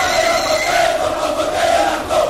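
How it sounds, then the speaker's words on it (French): A large outdoor crowd in Kindu, Maniema province, cheering President Félix Tshisekedi's arrival at a campaign rally, a dense sustained roar of many voices with rising chant-like shouts, loud and continuous. "Quel accueil, quel bain de foule à Kindu, chef-lieu de la province du Maniema."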